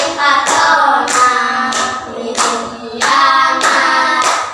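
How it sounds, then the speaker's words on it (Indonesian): Children and teacher in a classroom lesson clap their hands in a steady beat while singing together, each sharp clap landing about every two-thirds of a second over the voices. "1, 2, 3, sambil tepuk tangan"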